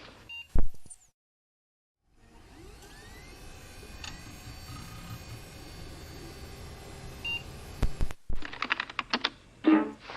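Quick, close clicks of fingers typing on a computer keyboard sound after a soft beep and a short silence, with a low electronic hum running behind and a last burst of irregular keystrokes.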